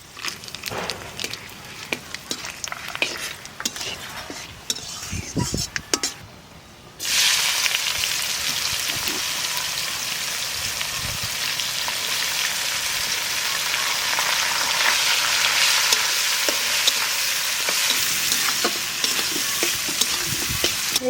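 Whole cumin, bay leaf, dried chili, cloves, cinnamon and cardamom hit hot oil and burst into a loud, steady sizzle that keeps crackling without pause, after a stretch of quieter stirring and clinks.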